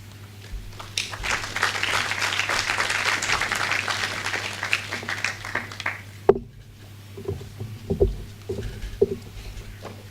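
Audience applause at a medical sciences student awards ceremony, swelling into a dense patter of clapping for several seconds, then cutting off abruptly and trailing into scattered claps and room noise over a steady low hum.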